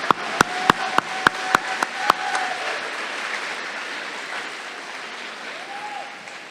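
A run of about eight sharp claps at a steady beat, loud and close, then a softer crowd noise that fades out; heard at a middle school awards ceremony honoring staff.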